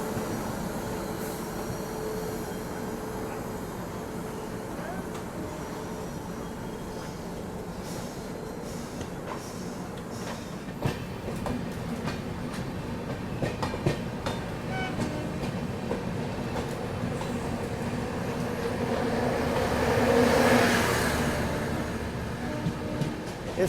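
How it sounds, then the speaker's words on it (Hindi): Bhagalpur Garib Rath Express passing near Ghaziabad junction, a steady rolling rumble with wheel clatter throughout and a rising roar toward the end, no talk. "भागलपुर गरीब रथ एक्सप्रेस।"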